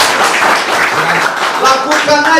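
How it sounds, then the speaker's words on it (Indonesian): A church congregation at a Sunday worship service applauds loudly, with a dense rush of clapping filling the room while voices and the sound system carry on underneath. "Tepuk tangan untuk Tuhan Yesus Kristus."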